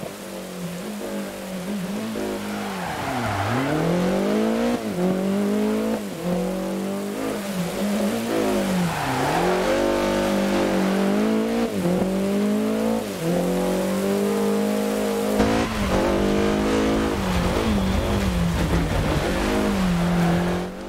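BMW M3 rally car in the racing game DiRT Rally 2.0 on a rain-soaked German rally stage, its engine revving hard and repeatedly, rising and dropping through gears as the car slides, loud and continuous with gravel and tire noise and no talk.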